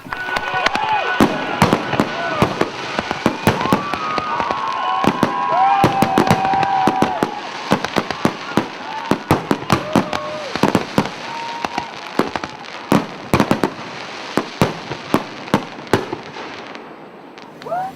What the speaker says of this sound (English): Are you ready for some fireworks?